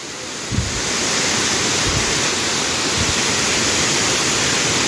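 Lamasua waterfall in Bontomasunggu, Bone, roars steadily as a dense, continuous wash of rushing water, loud and unbroken throughout, with no voices.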